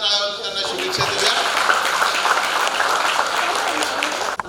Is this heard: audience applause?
yes